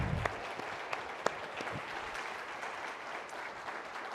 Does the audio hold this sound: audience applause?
yes